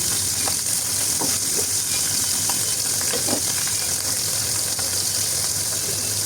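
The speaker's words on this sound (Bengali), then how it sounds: "এখন আমি মাছগুলো দিয়ে ভেজে নিচ্ছি" Pieces of fish fry in a pan for a fish-and-greens dish, giving a steady, dense sizzle that carries evenly throughout, with a few faint clinks and no voices.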